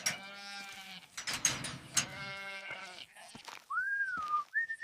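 Several sheep bleat close by in short wavering cries, overlapping at times, followed by a couple of rising whistles.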